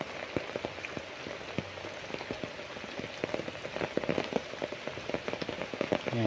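Light rain patters on surfaces outdoors, scattered drops falling at a steady soft rate as the shower eases, no voices over it.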